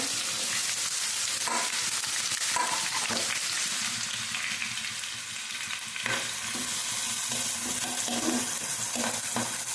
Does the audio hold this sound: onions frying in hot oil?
yes